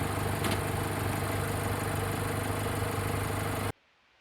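A 1998 Honda CR-V engine idles steadily after a radiator replacement, a close, even mechanical hum with no talk, cutting off abruptly near the end.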